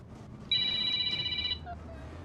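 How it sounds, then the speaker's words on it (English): A telephone ringtone trills for about a second during a NASCAR Gen 4 Atlanta race broadcast, moderately loud over a low background hum. "I'm getting a phone call from my son-in-law."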